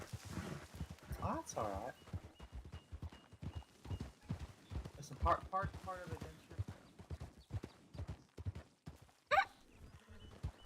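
Horse hooves clip-clopping at a steady walking rhythm in a video game, close and continuous beneath frequent overlapping conversation between several voices.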